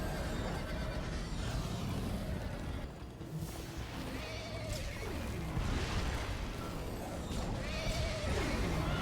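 A horse whinnies in Minecraft: Story Mode, a game neigh rising over a dense, steady bed of game music and effects, with a couple of drawn-out calls spaced across the stretch.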